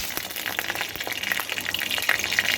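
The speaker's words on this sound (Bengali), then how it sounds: "দুটো শুকনো লঙ্কাকে আমি একটু ফাটিয়ে দিলাম" Two dried red chillies fry in hot oil in a pan, giving a steady hissing sizzle with small crackling pops scattered throughout, close and moderately loud.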